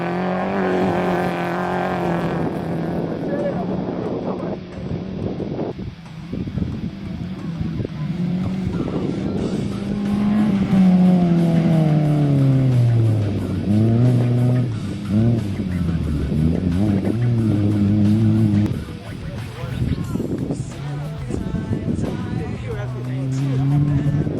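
A VW Polo race car in an auto race, its engine rising and falling through gear changes and revs, loud and steady throughout, with a voice talking over it.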